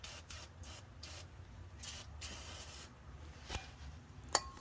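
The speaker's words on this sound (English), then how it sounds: "Next thing we want to do is some liquid wrench all up in there." Liquid Wrench penetrating oil sprayed onto a rusty Mazda Miata suspension: a steady hissing aerosol spray in several short bursts, close and fairly quiet, with a small knock near the end and no talking.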